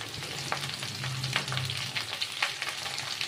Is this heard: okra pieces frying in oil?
yes